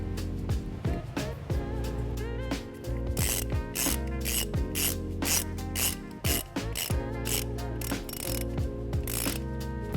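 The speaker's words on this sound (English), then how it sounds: "place it over this positive stud, and then put the nut back on to secure it" A ratchet tightens a nut onto the positive stud of a 2013 Nissan Sentra's trailer wiring harness, clicking loudly and continuously in quick bursts with short pauses for repositioning, close up and with no talk.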